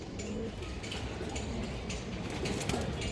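A big-headed silver female pigeon gives soft, low cooing against a quiet, hissy background, with faint ticking and a little human voice nearby.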